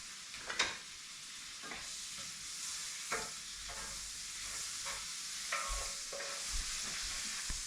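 A small knob of butter sizzles in a ridged griddle pan. A steady, moderately quiet frying hiss carries through the clip, broken by several sharp spatter pops and scraping taps as it is pushed along the ridges.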